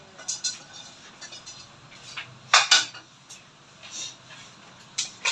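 Metal pots, pans and utensils clatter in a home kitchen during cooking of pancit, with a string of sharp clanks and scrapes, the loudest burst midway, followed by a few lighter knocks.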